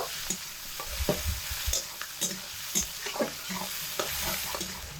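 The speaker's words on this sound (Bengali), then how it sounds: "এগুলোকে এবার একসঙ্গে খুব ভালোভাবে নেড়ে চেড়ে লাল লাল করে নেব" Onion, garlic and slit green chili frying in a pan while being stirred, a constant sizzle broken by frequent scraping strokes of the spoon, close and fairly loud, with no voices.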